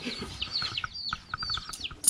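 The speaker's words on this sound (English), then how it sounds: "They're making chicken noises." Chickens on a farm raising dual-purpose birds, giving short chirps and clucks in irregular bursts at close range, with faint human voices now and then mixed in.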